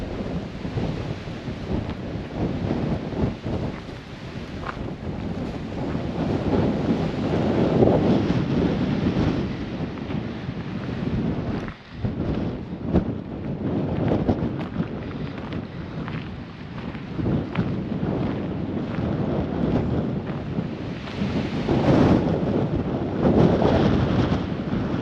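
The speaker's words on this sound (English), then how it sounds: "It's a windy Christmas Eve here" Strong desert wind at Quartzsite on a blustery day, a steady loud roar buffeting the microphone with gusty surges, no talk throughout.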